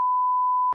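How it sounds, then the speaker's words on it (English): A single steady electronic beep, a pure tone held for about three quarters of a second before cutting off abruptly. "Beep."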